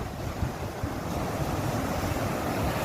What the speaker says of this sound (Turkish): Dalgalara bak.